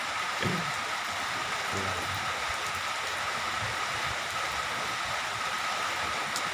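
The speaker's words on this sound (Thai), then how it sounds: "เห็นฝนตกมา ฝนตกระถึกใจคัก" Steady rain hisses continuously, a dense wash of falling drops with no pauses, heard from nearby.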